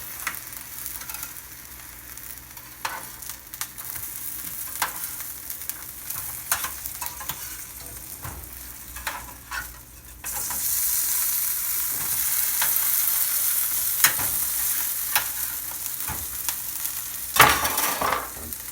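Cheeseburger patties sizzle steadily in a hot pan after being flipped, a close, continuous crackling fry with occasional scraping and clinks, growing louder and brighter partway through.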